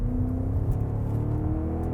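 A 2024 BMW X5 M Competition at full throttle, its engine note climbing steadily with a loud, close exhaust growl and gear-change surges, no talking over it.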